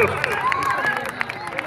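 Crowd at a ram fight bursting into clapping and cheering, a dense, steady patter of many hands with raised voices throughout, close and fairly loud.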